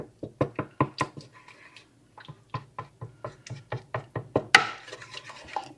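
Spoon knocking and scraping in a pan as cream cheese is stirred into chicken pasta, giving a close run of quick irregular taps and rubs with a sharper clack near the end.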